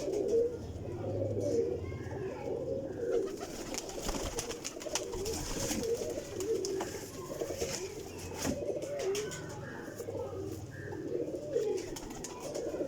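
A group of teddy pigeons kept in a flock coos in low, rolling murmurs that overlap continuously, quiet and moderately close, with occasional rustles and a soft background hum.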